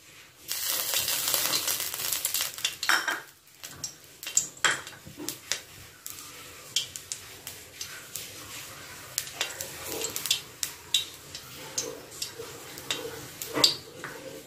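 Oil poured into a hot, dry pan for mint vermicelli, starting with a loud hiss and sizzle that drops off after about three seconds, followed by scattered clinks and light crackles, with no talking.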